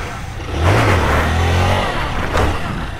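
Motorcycle engine during wheelie practice, revving up sharply, holding a loud close roar, then dropping back and blipping again briefly.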